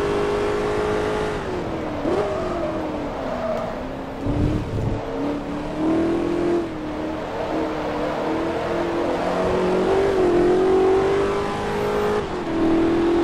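A Shelby Cobra race car engine in Forza Motorsport 2 roars and revs continuously, pitch climbing and dropping through gear changes, loud and close with no talking.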